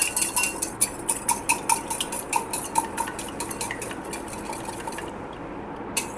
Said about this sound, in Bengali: এর মধ্যে একটা ডিম নিলাম, ডিমটা ভালো করে ফেটিয়ে নেব।